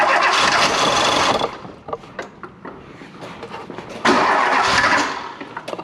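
A Volvo 340 engine is cranked and fires, a loud close churning start that drops into rough, uneven sputters before catching and revving up again.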